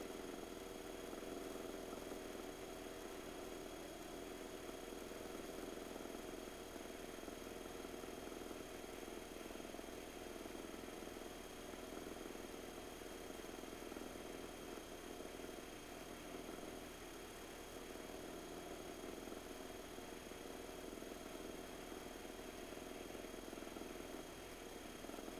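Steady, loud drone of a light training aircraft's engine at full power after takeoff with flaps up, a constant buzzing roar with no voices, heard from inside the cockpit during a solo flight.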